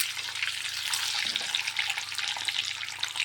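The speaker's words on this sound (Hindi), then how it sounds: "ताकि हमारा अंडा जो है अच्छी तरह से एकदम फ्राई हो जाए" Eggs frying in oil over low to medium flame for an egg curry, a steady close crackling sizzle with bright popping spatters throughout and no voices.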